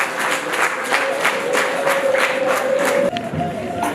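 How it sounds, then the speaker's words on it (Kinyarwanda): Rhythmic group clapping at a wedding, many hands beating in a steady pulse for about three seconds alongside a sustained voice and crowd noise, then breaking off. "asampurusa muha amashyi rwose"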